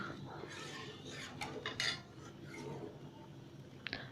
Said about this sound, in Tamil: புளி ஊற்றுனதுக்கப்புறமா அப்பப்போ நம்ம இந்த மாதிரி நல்லா கிண்டி விடணும்